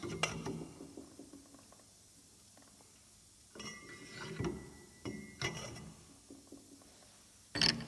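A poly bushing is pressed out of a Cadillac CTS with a tool, giving quiet ratcheting clicks, creaks and metallic clinks in scattered bursts, ending in a sharper clunk.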